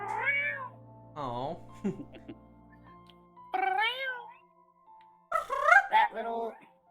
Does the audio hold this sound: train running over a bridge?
no